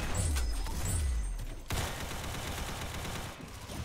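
Rapid gunfire from an Arsenal first-person shooter game, with loud bursts of shots in quick succession throughout and heavy low thumps early on.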